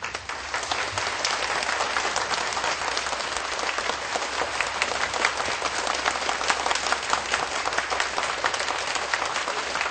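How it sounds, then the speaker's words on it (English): Loud, dense applause from a large audience honoring distinguished guests at a formal event with a former Philippine president, a continuous wash of many hands clapping throughout with no pause. "Let us please give a big round of applause to thank His Excellency and all the distinguished guests."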